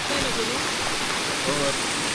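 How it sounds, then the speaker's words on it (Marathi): A small stream swollen with rainwater during heavy monsoon rain beside a flooding river, giving a steady broad rush of flowing water with faint voices underneath. "ही एक झिरपी आहे, छोटी झिरपीला एवढं पाणी"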